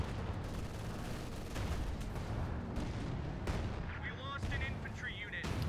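Pack howitzer artillery fires in a Company of Heroes 2 battle, with repeated heavy booms and rumbling blasts over continuous battlefield noise, while a commentator talks over it.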